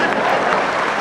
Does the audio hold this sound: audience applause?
yes